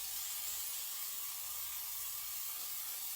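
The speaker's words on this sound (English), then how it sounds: "Spray your pan." A homemade pump-action oil sprayer mists a cooking pan with a steady, close, continuous hiss lasting several seconds, with no talking.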